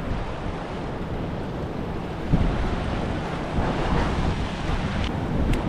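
Waves breaking on rocks along the shore at Bay of Islands, a steady, loud wash of surf close by, mixed with wind buffeting the microphone, with one heavier surge partway through.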